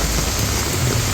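Heavy rain pouring down outdoors, a dense, loud, unbroken hiss and patter filling the whole moment with no voices.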